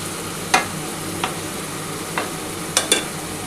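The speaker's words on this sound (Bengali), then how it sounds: "নুন, হলুদ, ঝাল লঙ্কার গুঁড়ো, চিনি দিয়ে ভালো করে কষানোর পর কিন্তু আমি লোটে মাছটা দেবো।" A spice paste of salt, turmeric, chili powder and sugar fries in a pan with a soft, steady sizzle. Several short scraping strokes of a stirring spoon cut in now and then, close and fairly loud.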